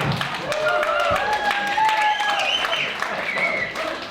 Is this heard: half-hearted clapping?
yes